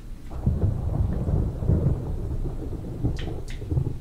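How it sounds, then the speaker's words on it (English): Deep rolling thunder rumbles continuously through a rainstorm in Resident Evil Remastered, with heavy low booms swelling several times and faint crackles of rain throughout. "the thunder and lightning in these headphones is super"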